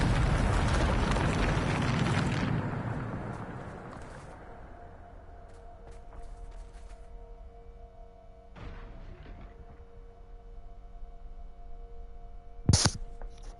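A Bombarda explosion spell in the Hogwarts Legacy video game bursts as a loud, roaring blast that rumbles for a few seconds and then fades to a low hum, with a sharp crack near the end.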